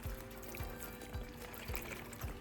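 Water poured from a small container onto the steel side shelf of a flat-top griddle while cleaning it after cooking, a soft steady trickle and splash heard close with no talking, with faint rhythmic thumps repeating underneath.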